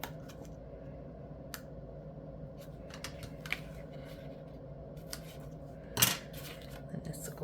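Scissors cutting card stock for an A2 card and envelope holder, a series of quiet, close snips and crisp clicks with one louder sharp cut near the end, no talk.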